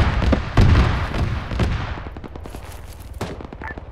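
Dense gunfire from a heavy firefight in a military video game: rapid overlapping shots and bursts, loud and close at first, then thinning into scattered more distant reports.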